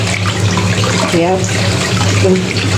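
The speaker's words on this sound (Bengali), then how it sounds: "একটা একটা করে মুরগি দিয়ে ভালোভাবে পরিষ্কার করতেছি" Tap water runs steadily over raw chicken pieces as they are washed one at a time in a kitchen sink, a close, continuous splashing stream with faint voices in the background.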